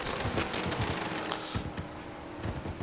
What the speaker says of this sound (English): As the fireworks are exploding off in the background.